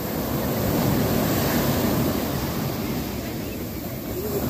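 Sea waves roll onto a beach in a steady, loud wash mixed with wind rumble as a fishing boat lands on the shore.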